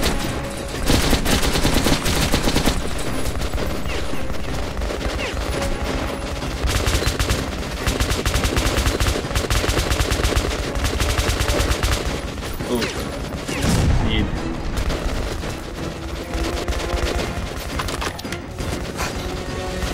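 In the first-person shooter Metro Last Light, dense gunfire sounds as sustained bursts of automatic fire with loud, rapid cracks and booms, nearly continuous throughout amid chaotic combat noise.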